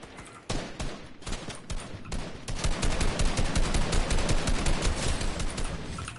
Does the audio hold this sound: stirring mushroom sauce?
no